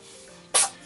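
A single quick, sharp sneeze from a cat with the sniffles, which breaks a quiet background and then fades.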